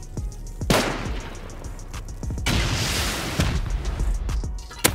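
Rockets fire and explode during a video game raid, with several sharp booms and bursts in quick succession followed by rumbling blasts, loud and close, with no one speaking.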